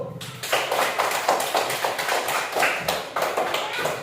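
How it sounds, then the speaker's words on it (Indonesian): Schoolchildren in an elementary school classroom clap together in a steady rhythmic beat, close and fairly loud, with even bursts repeating throughout and no talking. "Oke, tepuk tangan dulu."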